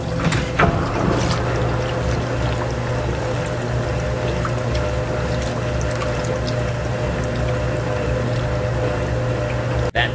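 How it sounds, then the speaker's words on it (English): A Kenmore All American washing machine runs with a steady, loud mechanical drone and a continuous belt whir, a constant hum with faint splashing and rattles, with no voices. "That belt sound reminds me sort of the jet engine sound effect that Rocky the Flying Squirrel would use."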